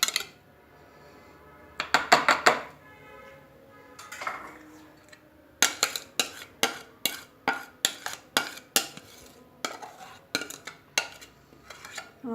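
Cream slowly mixed into a bowl of fruit chaat with almonds and raisins, a spoon tapping and clinking against the bowl in a brief early cluster, then a steady run of regular, close, distinct knocks.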